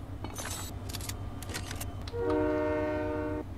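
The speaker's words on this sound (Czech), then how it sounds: "Ide vláčik okolo," A train passes in Fortnite: a low rumbling rolls along, then a sustained horn blares loudly for about a second before cutting off, with no one talking.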